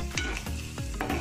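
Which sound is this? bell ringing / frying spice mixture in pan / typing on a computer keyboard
frying spice mixture in pan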